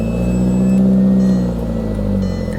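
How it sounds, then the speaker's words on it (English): Small Toyota car engine idling just after firing up, check-engine light on, with a possible squealing turbocharger: a loud, close, steady low rumble with a faint high whine, lasting a few seconds with no talk. "Well, it fires up."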